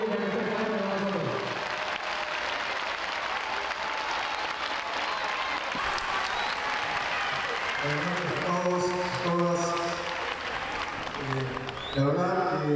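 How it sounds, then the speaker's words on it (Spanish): An audience at a Women's Day celebration with the country's president gives sustained applause, a continuous crowd clapping for several seconds while someone speaks over it at the start and again near the end. "Un aplauso para el presidente de la República que está aquí con nosotros."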